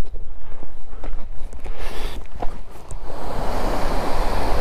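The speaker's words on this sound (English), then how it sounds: "we've got waterfalls at the end of the walk" A waterfall at the end of a fell walk in the Lake District, near Scale Force, Red Pike and High Stile, roars as steady broadband rushing water, with wind buffeting the microphone and a few footsteps.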